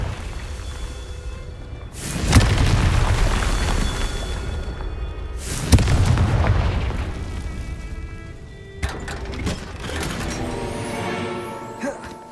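A Confringo fire spell from Hogwarts Legacy on PC bursts in two loud, booming explosions a few seconds apart, each with a rumbling tail, followed by fainter crackling impacts.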